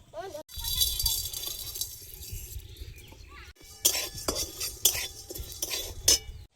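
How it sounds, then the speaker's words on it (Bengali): Whole cumin, coriander, black peppercorns, a cinnamon piece and cardamom pods are dry-roasted in a pan, with a metal spoon scraping and clinking against it in uneven bursts, close and moderately loud, between quieter rattling stretches. "গোটা জিরে গোটা ধনে গোটা গোলমরিচ আর একটা দারচিনির টুকরো আর চার পাঁচটা এলাচ একসঙ্গে শুকনো খোলায় ভেজে নেব"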